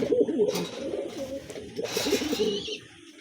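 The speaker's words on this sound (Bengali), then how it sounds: "নটটা কি পরিমাণ ডাকাডাকি করতেছে" A male pigeon coos insistently at a female in a cage. Its throaty, rolling coos repeat close by in quick succession.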